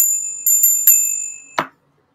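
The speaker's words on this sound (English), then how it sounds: "Where's the bell?" An auctioneer's bell at a coin auction rings in several bright strikes with a long sustained ring, ending in a short thud before silence.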